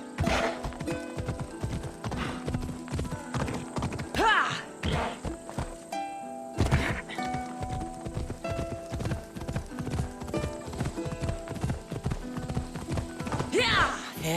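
Horse hooves clip-clopping up a rocky cliffside in Assassin's Creed Odyssey, steady close steps with an occasional whinny, over game music while someone talks.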